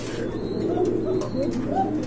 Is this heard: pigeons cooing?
yes